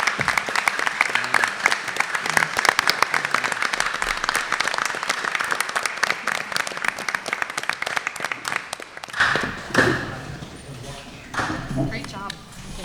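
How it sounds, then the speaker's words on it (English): Applause from an audience at a student recognition ceremony, dense clapping for about nine seconds before thinning into scattered claps and voices. "Let's give them another big round of applause."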